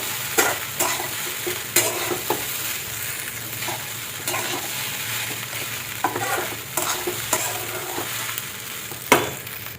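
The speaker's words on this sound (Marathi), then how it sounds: "आता 5 मिनिटं शाबू असंच आपल्याला परतून घ्यायचं आहे." Soaked sabudana tapioca pearls and boiled potato are sautéed in a pan for khichdi, a steady soft sizzle punctuated by regular sharp scrapes and taps of the spatula, close up with no talking.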